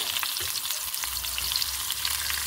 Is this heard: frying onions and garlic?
yes